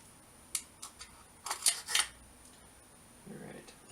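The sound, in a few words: rifle bolt dropped into the receiver of a Jard J48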